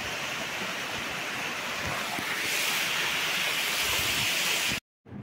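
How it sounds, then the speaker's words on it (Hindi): Kimadi waterfall near Dehradun, a steady loud roar of rushing, crashing water heard close up, continuous and broadband, growing slightly louder midway before cutting out briefly at the end. "हम किमाड़ी फॉल में हैं"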